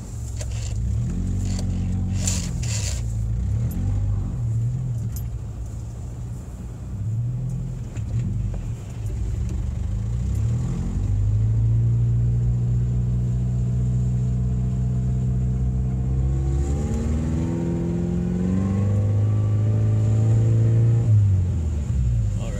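A Jeep pulls out of a snowy parking spot, its engine rumbling loud and close and rising in pitch as it revs and climbs through the gears. The sound is steady with no talk over it.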